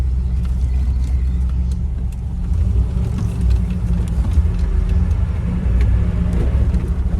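A 1990 Land Rover 90 County station wagon's V8 engine runs close by with a steady, deep rumbling idle that swells slightly midway, loud and continuous with no voices over it.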